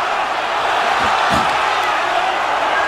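Boxing arena crowd at Carl Froch vs Mikkel Kessler, a dense continuous roar of cheering that swells briefly in the middle, loud and unbroken throughout.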